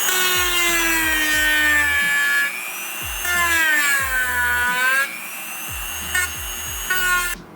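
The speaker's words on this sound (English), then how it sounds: "So I'm gonna take my, my grinder and smooth this side out so it gives it a flat surface to seat on." An angle grinder smooths metal behind the wheel arch of a BMW G8X M2, M3 or M4, its loud whine repeatedly spinning up and easing off in short bursts with no talking.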